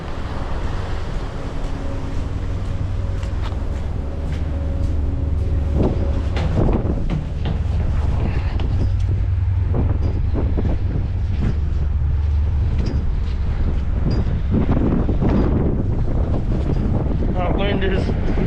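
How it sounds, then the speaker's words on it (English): Strong wind buffets the microphone on an island during a rainstorm, a loud, constant roaring rumble with gusts, and a voice speaks faintly in places. "Wind is, it's picking up. Super windy right now."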